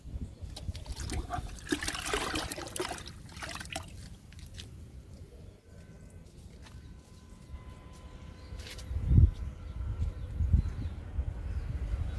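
Liquid fertilizer poured onto vegetable plants in a garden, such as eggplant: quiet trickling and dribbling of liquid onto soil and leaves, with a few soft splashes and thuds near the end.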